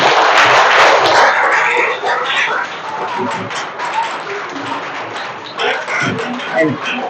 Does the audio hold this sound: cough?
no